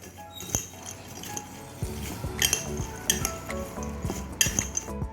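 Crispy fried sweet corn tossed with red chilli and amchur powder in a bowl, giving repeated light clinks and rustling rattles of kernels against the bowl, close and uneven, with no talking.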